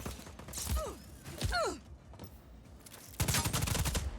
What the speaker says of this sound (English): I'll shoot it